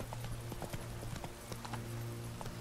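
Horse hooves clip-clop at a steady trotting rhythm in the video game The Witcher 3, sharp regular hoofbeats over a constant low hum, no talk heard.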